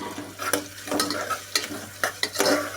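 Garlic-ginger paste and onion are sautéed in oil in a pan, with a spoon scraping in quick repeated strokes about twice a second over a steady frying sizzle. Close and fairly loud, with no voices.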